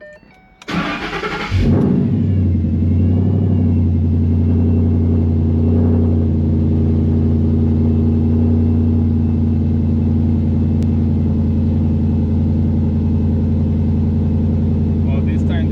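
A 2012 Ford Mustang GT 5.0 V8 with a suspected failing alternator cranks briefly, fires up and settles into a loud, steady, deep idle rumble close by.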